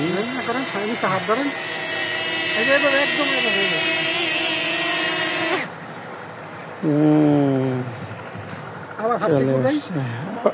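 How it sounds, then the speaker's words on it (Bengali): A small hobby drone hovers close by with a steady, high propeller whine, loud and continuous through the first half and then cutting out, while someone talks over it and later speaks again. "এই সেই ড্রোনটি"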